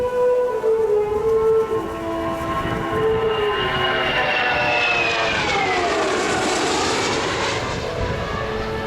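A Lockheed Constellation piston airliner makes a final display pass at the Avalon Air Show in 2009, its loud droning engines holding steady tones that sweep downward in pitch as it roars past, with no talk over it.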